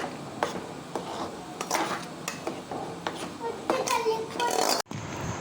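A thick ABC malt flour mixture is stirred in a pan, with repeated metallic scrapes and clinks of the spoon against the pan and faint voices in the background.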